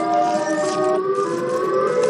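The video game's Siren Head wails loudly and steadily in layered tones, with one pitch step partway through, over a brief stretch with no talk.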